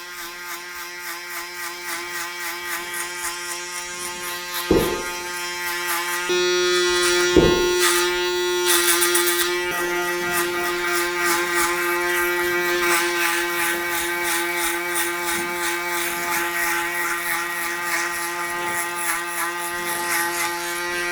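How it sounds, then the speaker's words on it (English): An electric foil shaver buzzes steadily against a customer's afro hair at the barber's, edging a low skin fade; the close, continuous buzz holds for about twenty seconds with two sharp clicks near the start. "I'm just going to go around the edges with the foil shaver just to take it right down to literally below the skin"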